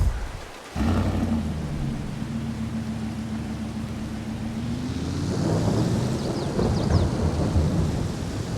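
A long rolling rumble of thunder over steady rain in the video game Farming Simulator 22, building slightly in intensity toward the end, with no voices.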